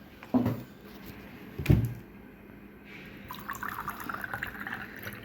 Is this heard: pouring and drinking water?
yes